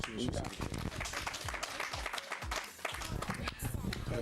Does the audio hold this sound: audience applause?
yes